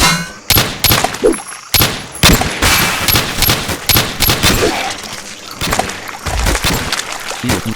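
Repeated pistol shots fired in the video game The Blood Rain, a dense run of sharp close bangs in quick irregular bursts with brief gaps, loud and continuous over about eight seconds.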